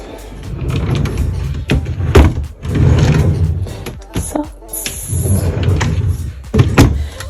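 Drawers in a husband's renovated closet slide open and shut several times, giving repeated close rumbling scrapes and soft knocks, with brief talk in between.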